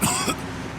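A short, hoarse cough from an injured man in the video game Mafia 2, a single close burst followed by a fainter rasp.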